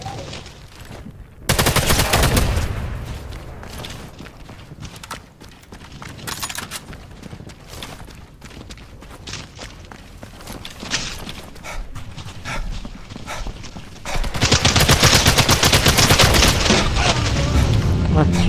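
Rifle fire in Sniper Elite 5 multiplayer deathmatch: repeated sharp shots and booming bursts crackle loudly throughout, with a heavy, dense barrage near the end, while a voice talks underneath.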